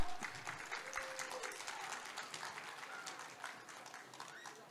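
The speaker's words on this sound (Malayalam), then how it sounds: "നല്ലൊരു കയ്യടി" Applause from an audience at an Onam contest, a dense, fairly faint patter of many hands clapping that starts strongest and continues evenly, with a few voices mixed in.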